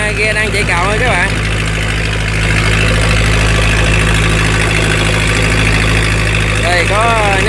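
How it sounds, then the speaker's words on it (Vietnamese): Steady idling drone of the engine on a clam-raking fishing boat (ghe cào hến) near Hòn Tre, constant and loud, with someone talking over it. "Đây ghe đang chạy cầu các bạn."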